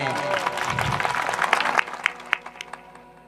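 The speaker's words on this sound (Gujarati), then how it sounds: "એ વધાવો એ તાળીઓ નો પાડે એને" Scattered clapping rises from a gathered crowd at a village gift announcement, starting under a voice and thinning to a few sharp, separate claps by the end.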